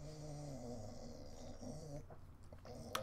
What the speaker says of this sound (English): If you can hear my dog at all, she's making some strange noises